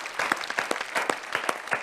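Studio audience applauding at a Hindi shayari and ghazal show, a brief burst of close, dense clapping with sharp individual claps standing out, no voices.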